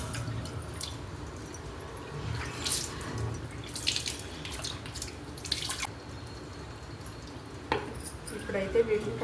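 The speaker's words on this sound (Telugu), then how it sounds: "అలా 2 సార్లు అయితే నిమ్మకాయలు అయితే శుభ్రంగా కడుక్కోవాలండి" Lemons being washed in water at a kitchen sink, with running tap water, splashing and small clinks of items against the basin in an irregular rhythm, fairly close.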